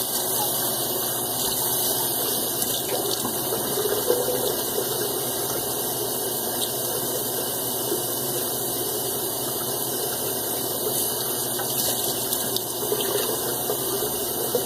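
Water runs steadily from a tap in a bathroom sink while someone wets their head before a shave, a continuous close hiss and gush with no talking.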